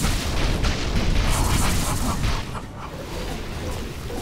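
Dota 2 tower fight with a thick wash of booming impacts and explosive bursts that stay heavy for a couple of seconds, then ease slightly while the battle noise carries on.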